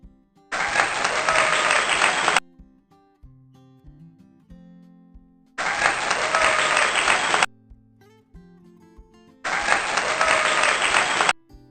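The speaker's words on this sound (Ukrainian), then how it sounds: "Молодці, друзі! Плескаємо в долоньки, збираємо яблучка." Children at a playful session with a psychologist clap their hands in three separate bursts of about two seconds each. Loud, dense clapping alternates with stretches of soft background music.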